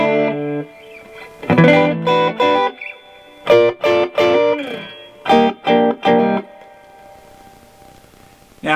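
A modded Monoprice guitar amp with a two-spring reverb turned up carries bursts of strummed, distorted chords, each with a washy spring tail ringing out between them and fading into silence at the close.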